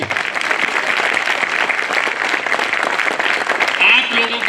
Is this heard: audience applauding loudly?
yes